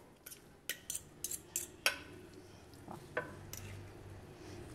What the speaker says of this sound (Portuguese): E vem misturando.